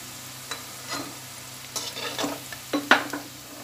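Fried potatoes for Mughlai aloo sabzi in a pan of oil on low heat, giving a soft, quiet sizzle broken by a few louder spoon scrapes and clinks toward the end, with no voices.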